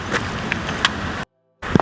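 Rushing water from the first tier of a waterfall in Saraburi, a broad steady roar heard close, briefly cut to silence before resuming with a few louder splashes.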